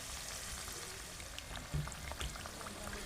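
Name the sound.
vegetable pitha frying in ghee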